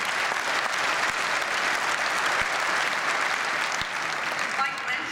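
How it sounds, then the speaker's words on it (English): A keynote audience at HP's 2012 conference gives a full round of applause, dense, even clapping that holds steady throughout with faint crowd murmur underneath. "So just give one more round of applause."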